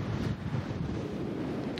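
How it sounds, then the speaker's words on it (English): Heavy winter wind buffeting a microphone outdoors in Kodiak, Alaska, a loud continuous low rumble of wind noise with no talking. "let's test out this new microphone in this heavy wind."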